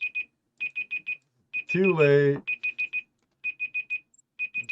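An electronic alarm beeps in quick bursts of four short tones, pausing between groups, while a voice briefly speaks over one gap.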